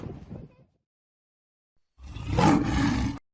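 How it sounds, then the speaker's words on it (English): A lion, the large African cat of the genus Panthera, letting out one loud, sustained roar of about a second after a short burst of sound and a moment of silence. "The lion is a large cat of the genus Panthera native Africa."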